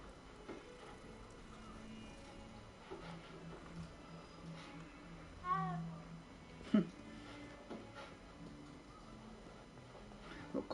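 Cats meow in the video game Hogwarts Legacy: two short, rising-and-falling meows in the middle, faint against quiet game ambience.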